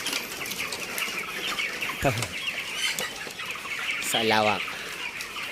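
Chickens 45 days old in a large poultry house cluck and squawk in a dense flock chorus, with one loud nearby squawk, some wing flapping and a brief voice speaking.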